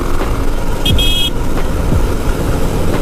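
A BMW G310GS motorcycle ridden at about 100 km/h on an open road, a steady loud roar of engine and wind with a brief vehicle horn toot early on.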